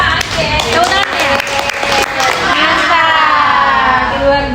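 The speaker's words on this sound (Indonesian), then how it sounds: "Oke. Tepuk tangan ya." A group of children in a classroom claps their hands together in a dense, lively burst amid shouting and cheering voices, continuing steadily throughout.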